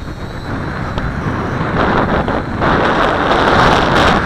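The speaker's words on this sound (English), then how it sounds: "this is the Q7 fighting a 15-knot wind" A Q7 drone fights a 15-knot wind in a loud, steady roar of wind buffeting the microphone, with the broadband rush swelling slightly toward the end.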